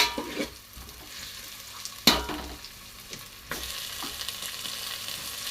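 Tomatoes go into a hot pan with a sharp burst of sizzling, followed by steady frying hiss and scraping stirs, close and fairly loud, with no talking.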